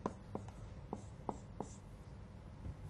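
A weak-inked marker writes on a board during a probability lecture. Soft taps and short strokes come at irregular intervals, close and faint, with no talking over them.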